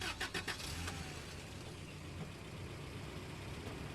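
The engine of the Neo Falcon 2000 scout vehicle in the video game SnowRunner cranks with a few quick starter pulses, then settles into a low, steady, fairly quiet idle rumble.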